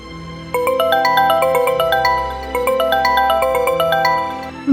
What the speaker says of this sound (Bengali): হুট করে আকাশের ফোন আসে রিদিমার কাছে